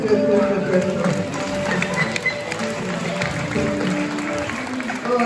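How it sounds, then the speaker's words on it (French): Audience applause fills a French stage hypnosis show, a dense steady clapping that holds throughout while voices talk over it. "On peut s'applaudir très."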